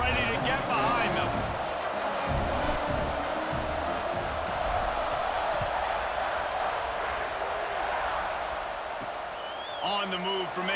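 In the College Football 26 video game, a stadium crowd roars as an Ohio State team lines up to kick off after a touchdown. The loud, sustained cheering runs under the announcer's commentary.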